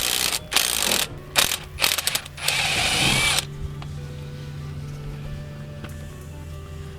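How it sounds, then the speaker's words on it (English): A ratchet loosens a 14mm bolt on a car brake fork during a big-brake install. Several quick bursts of clicking come up close, then fade to a low mechanical hum and quiet shop background. "So now I'm just gonna go ahead and deal with this fork"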